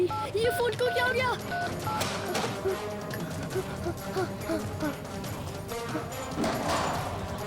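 A telephone keypad gives a series of quick dialing tones as someone tries to reach a doctor in an emergency. The beeps come in short bursts amid thumps and frantic talking.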